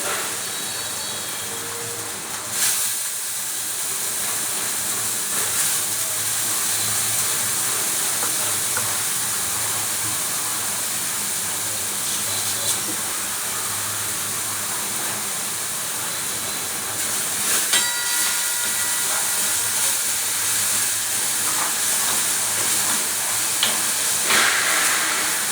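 Grated carrots sauté in ghee in a pan, giving a steady, dense hiss and sizzle that runs continuously throughout, close and moderately loud, with no talking.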